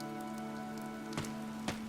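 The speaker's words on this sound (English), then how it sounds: "This rain threatens a coming storm." Steady rain falls in the video game Fire Emblem: Three Houses, a soft continuous hiss under a low steady hum, with two brief louder drips or taps near the end.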